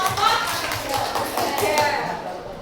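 Students in a classroom science lesson break into applause, a dense burst of clapping hands that fades out over a couple of seconds, with voices talking over it.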